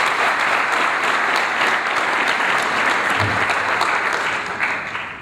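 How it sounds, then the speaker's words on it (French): Loud sustained applause from a large audience at a doctoral graduation ceremony, dense steady clapping that fills the whole stretch without a break. "Je vous demande de l'applaudir très fort."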